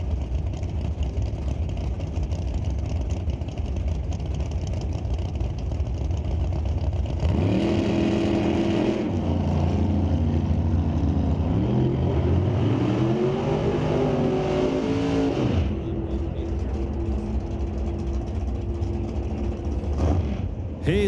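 A 1986 Daytona drag car during NHRA Sportsnationals qualifying in Canada, engine loud and revving with a rising then falling note through the middle of the run, over steady crowd and track noise.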